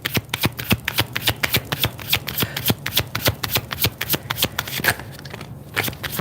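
Oracle cards are shuffled by hand in quick, repeated riffling bursts, a steady crisp papery flutter with sharp rhythmic slaps close to the listener for the whole stretch.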